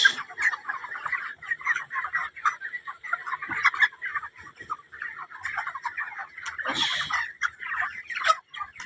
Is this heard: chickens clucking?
yes